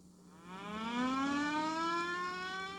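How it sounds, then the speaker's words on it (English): A fire siren winds up from a low growl into a rising, sustained wail, fairly faint and heard alone. "tested his fire siren"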